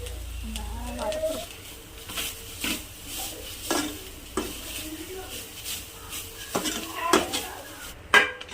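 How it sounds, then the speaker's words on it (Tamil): Grated coconut dry-roasting with ghee in a pan for suzhiyam sweets brings repeated scraping and clinking of a spoon against the pan, with a soft sizzle underneath and light talk. "கொஞ்சம் நெய் ஊற்றி ட்ரை ரோஸ்ட் பண்ணுறான்."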